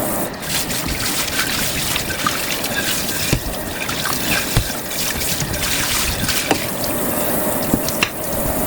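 Tap water runs steadily into a sink while dishes are washed, a continuous close trickle and splash with occasional clinks of dishware and no speech.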